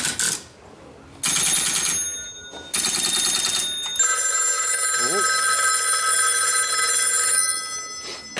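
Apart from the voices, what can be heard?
old telephone bell ringing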